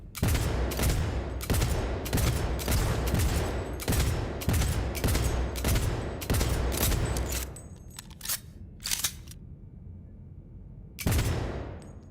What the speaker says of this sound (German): Ich kann mal voll schießen, Alter.